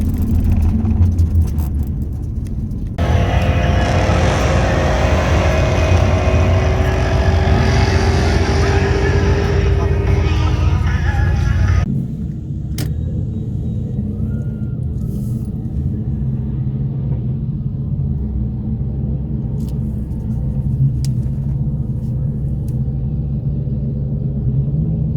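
A V35 Skyline Infiniti G35 on a night drag race run, its engine revving hard and loud for several seconds before dropping back to a steady lower idle rumble heard nearby.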